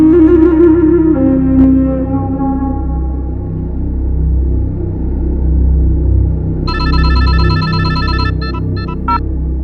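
A low, steady rumble runs throughout, then an electronic phone ringtone trills in repeated bursts near the end, loud and close.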